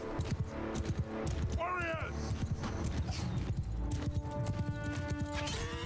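Horses gallop in Mount & Blade II: Bannerlord, rapid clip-clopping hoofbeats in a steady rhythm close by, with a brief whinny and clashing battle noise, while someone talks over it.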